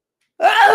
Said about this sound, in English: So 2 sneezes are allergies.